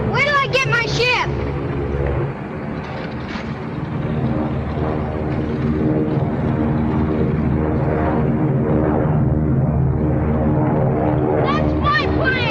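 A propeller airplane engine drones loudly and steadily throughout, near and continuous, with excited voices shouting over it in an action-movie scene.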